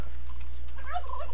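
A turkey mob in modded Minecraft lets out one short, loud warbling gobble, alone with no talk.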